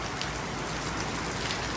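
Steady rain falling outdoors, a dense continuous hiss of drops on surfaces, loud and close with no voices.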